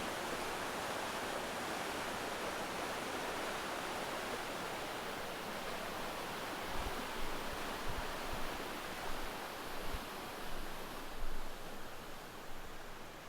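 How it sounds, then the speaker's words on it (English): A creek swollen by at least ten inches of rain rushes past as a dense, steady roar of whitewater. Low thumps and surges come in later as the flow churns, with no voices over it. "And here is our creek."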